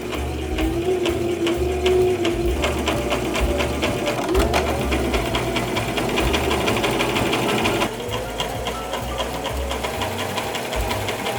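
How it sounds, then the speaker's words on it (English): A sewing machine runs a straight stitch with a continuous, close mechanical whir and rapid needle clatter, steady throughout with a slight change partway, and no voices. "I just want to do a straight stitch and just go over essentially like exactly what I sewed already."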